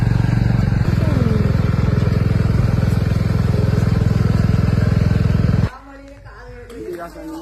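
A motorcycle engine drones loudly and steadily close by, then abruptly cuts away, leaving quieter background sounds behind.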